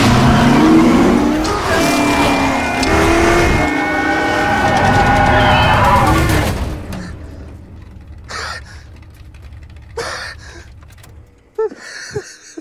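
A race car in a Ford v Ferrari film trailer, roaring loudly with rising and falling engine pitch over dramatic sound, then quieter whooshes and sharp impacts near the end.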